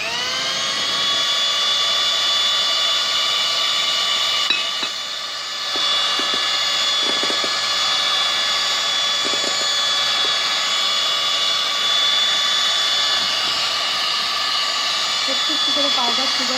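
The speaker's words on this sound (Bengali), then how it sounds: "একটু একটু করে পাউডার সুগার দেবো আর এটা বিট করতে থাকবো।" An electric mixer whirs steadily on low speed, beating orange cake batter as powdered sugar is added bit by bit, a loud, constant motor drone close up with only a brief dip in pitch.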